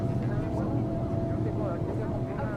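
Steady low engine drone and airflow hum inside the cabin of a Boeing 787 Dreamliner in Microsoft Flight Simulator 2024, a continuous even rumble with a faint tonal whine, unchanging throughout.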